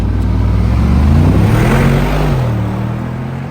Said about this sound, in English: we got to drag race the G63 AMG against an EQE